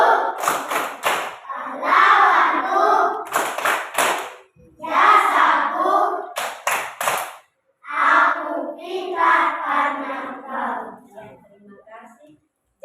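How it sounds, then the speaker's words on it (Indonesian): Schoolchildren in a classroom clap out the rhythmic 'tepuk guru' chant in bursts of loud, patterned hand claps with chanting voices, broken by short pauses. "Kita tepuk guru dulu."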